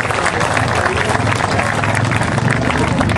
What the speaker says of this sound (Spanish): Un fuerte aplauso para Sensei Gotardo y Pedro Federico